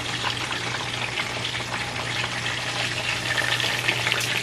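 Chilies and onions fry in a pan for enchiladas Michoacanas, a steady close sizzle and crackle of oil holding even for several seconds with a low hum underneath and no voices.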